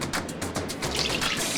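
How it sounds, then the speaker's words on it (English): Water pours into a cooking pot in a brief, close, steady splashing stream with bright gurgling, meant to fill it for chicken pho soup. "We're gonna start by adding 16 cups of water into our pot"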